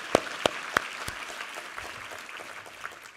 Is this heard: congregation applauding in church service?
yes